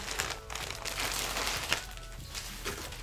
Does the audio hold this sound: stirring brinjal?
no